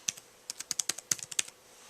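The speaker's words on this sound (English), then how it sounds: "Lenovo ThinkPads are known for having pretty good keyboards. Now, I've never used this before, but let's try it out." Keys clacking on a Lenovo ThinkPad 11e Chromebook keyboard, a quick irregular run of about a dozen crisp, close taps with brief pauses, no talking.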